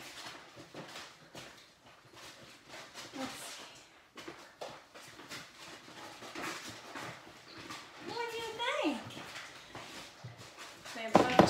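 Labrador puppies whimper and whine in short high cries under ongoing talk and movement noise, with a brief louder squeal near the end.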